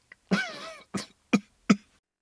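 A man coughs in a short burst, one long rasping cough followed by three sharp, separate coughs, close and fairly loud with no talk.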